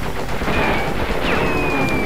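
Enemy gunfire in the Crash Bandicoot Warped video game, a dense, steady stream of shots and game effects that fills the whole clip at constant loudness, with no talking.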